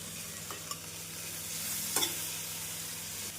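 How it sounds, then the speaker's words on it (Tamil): Chopped tomatoes sautéing over medium flame with onion and garlic for a chutney, a soft continuous frying hiss with a low hum and a couple of faint spatula scrapes. "தக்காளி சேர்த்து மீடியம் ஃப்ளேமில் நன்றாக வதக்க வேண்டும்."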